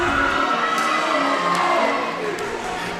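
A crowd cheers and shouts steadily throughout at a senior night girls' game in a gym, a dense, continuous roar with music underneath.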